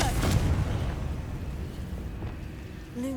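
A Confringo blasting spell goes off in Hogwarts Legacy as a dense, rumbling explosion that starts loud and full, then slowly fades out over a few seconds, with no speech over it.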